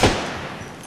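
A single loud gunshot cracks out in the video game Apex Legends. It hits sharply and then fades over a brief, noisy tail.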